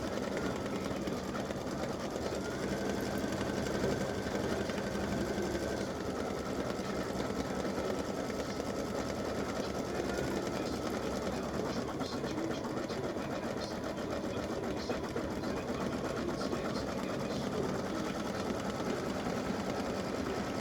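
An embroidery machine stitches the word "veteran" for a patriotic side-seam split appliqué design, running as a steady, continuous mechanical whir at close range for the whole stretch, with no talking.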